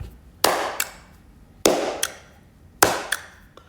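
Three sharp hand claps spaced about a second apart, each followed by a noticeable reverberant tail decaying into the space.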